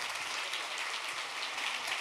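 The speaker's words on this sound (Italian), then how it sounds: "Facciamo un applauso a questa giovane." Congregation applause in an Italian church service for a young girl, a steady wash of many hands clapping at moderate, fairly distant level for about two seconds, with no voices on top.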